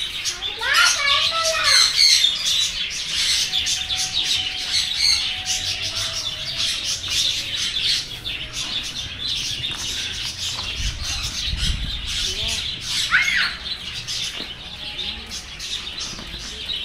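Caged birds at Garuda Park, an aviary in Pondicherry, chirp, tweet and squawk continuously with some wing flapping, the calls close and lively and steady throughout.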